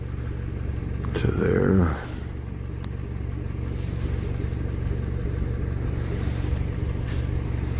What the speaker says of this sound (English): The car's got a bit of a knock to it.